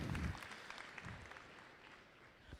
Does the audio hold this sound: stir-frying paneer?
no